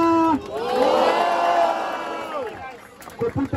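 A large crowd at a Brazilian trio rap battle, first-round face-off, lets out a loud, sustained roar of cheering and shouting that swells and then slowly fades. A few short vocal bursts follow near the end.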